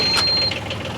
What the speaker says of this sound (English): The heart of the boat, the engine. So we're going to do a cold start.